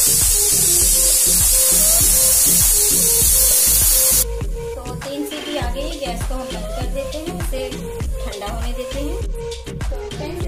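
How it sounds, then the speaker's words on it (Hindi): Pressure cooker releasing steam while cooking pav bhaji vegetables, a loud, steady hissing that runs for about four seconds and then stops, followed by music. "इसे हम सीटी आने के लिए छोड़ देते हैं तीन सीटी आने देंगे"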